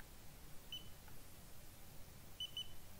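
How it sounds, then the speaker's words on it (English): Three short electronic beeps from a Xiaomi Yi action camera starting up, one early and a quick pair near the end, high-pitched and clean over a faint hiss of background noise. "Two beeps will be for the script loading off of the SD card, and then you'll hear one long beep."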